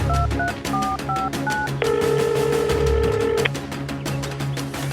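Tones of a telephone keypad beep in a quick sequence, followed by a long steady tone, over faint background sound.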